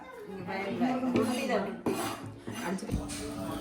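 Knife chopping roti on a flat surface for Jaffna-style kottu roti at a home kitchen in Florida, with clattering metallic strikes against dishes and utensils, irregular and close, occasional sharp hits.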